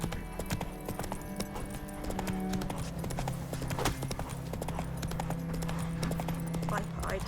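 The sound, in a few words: horse galloping hooves in video game The Witcher 3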